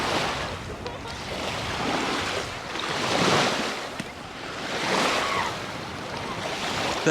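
Sea waves washing in at Santa Ponsa beach, Mallorca, in slow swelling surges about every two seconds, with steady wind noise and no talk.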